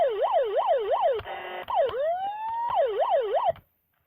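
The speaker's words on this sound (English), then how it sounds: "These are the sirens." Electronic siren from a Hess toy truck, cycling through a rising-falling wail, a rapid yelp and a long upward sweep before cutting off abruptly; close, loud and without voices.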